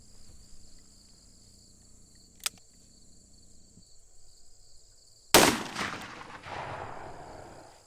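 A single .44 Magnum 240-grain XTP round fired outdoors, one loud close blast with a ringing decay, following a quiet stretch of insect chirps and a small click.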